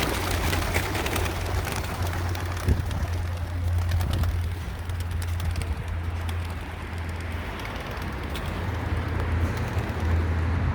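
Racing pigeons released outdoors for a GPS-tracked training flight, with soft cooing and light bird calls over a steady low hum and distant background noise.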